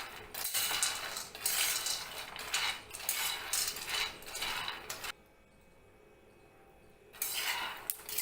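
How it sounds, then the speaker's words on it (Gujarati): Raw peanuts roasting in a dry pan over medium-low heat are stirred in repeated scraping, rattling strokes that stop for a couple of seconds before resuming. "સરસ આપણા દાણા શેકાઈ રહ્યા છે"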